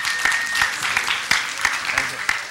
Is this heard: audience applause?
yes